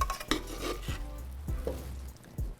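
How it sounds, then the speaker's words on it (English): A spoon scraping the bottom of a pot while cooking enchilada filling, several short scrapes and clinks over a soft background hiss, fairly close. "there goes that scraping of the bottom of the pot again"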